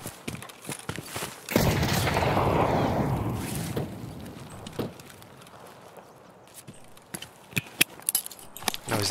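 Gunfire in Escape From Tarkov in a wooded area: a burst of rapid shots followed by scattered sharp single cracks and later a quick cluster of reports, some near and some more distant, with no talking.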